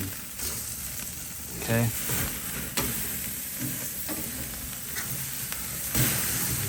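Thick steaks sizzling over a flaring grill fire: steady loud frying hiss throughout with occasional pops and crackles, close up, with a brief spoken word and faint voices.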